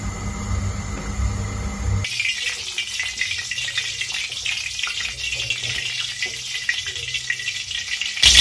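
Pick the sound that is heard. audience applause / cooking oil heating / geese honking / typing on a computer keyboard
cooking oil heating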